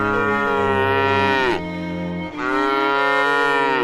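A cow named Mimi, a dairy cow kept on a small farm, lets out two long, loud, close moos separated by a brief dip, with no voices over them.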